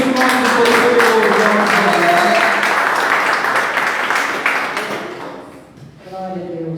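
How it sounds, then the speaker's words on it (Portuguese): A church congregation claps together in a loud, steady roll of applause that gradually thins out before a voice begins speaking. "E as palmas glorificam o nome do Senhor"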